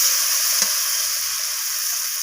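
Spice paste sizzles steadily in hot oil in a frying pan while being stirred, a continuous close hiss with one faint scrape of the spoon and no talk.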